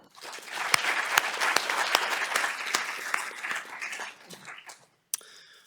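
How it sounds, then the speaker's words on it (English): An audience at a sports analytics panel discussion gives a round of applause, many hands clapping with sharp individual claps standing out, swelling then tapering off before a brief separate burst at the end. "Please all join me for a round of applause for Will"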